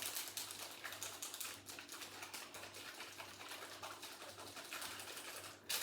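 A bottle of tie-dye powder is shaken hard, a rapid rattling patter of grains that keeps up a fast irregular rhythm for several seconds, fairly quiet and close.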